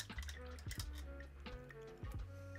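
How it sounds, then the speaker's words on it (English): A paintbrush swished and tapped in a water pot, small liquid clinks and sloshes repeating in a loose rhythm, close and quiet, with speech alongside. "Wash the brush."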